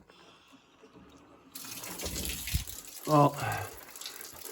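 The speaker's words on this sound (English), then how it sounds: "I could theoretically turn the water on now to the home" Water turned on and flowing through a home's plumbing, a tap hiss rising suddenly to a steady gush with a brief louder surge, while someone speaks briefly.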